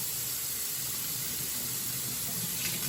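A steady hiss of running tap water flows continuously, close and fairly quiet, with no voices.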